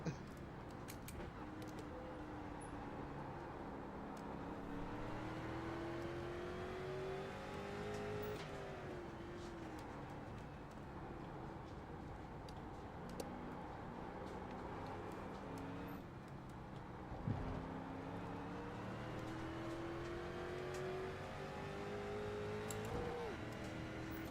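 A race car engine drones steadily in the iRacing video game during a league race, its pitch rising and falling through gear changes with a brief dip and sharp transient midway, continuous and fairly faint throughout.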